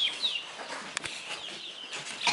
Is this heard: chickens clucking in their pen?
yes